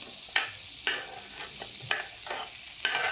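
Raw mango pieces sizzle in a pan for methamba while a spoon stirs them in four sharp, evenly spaced scrapes over a continuous fry.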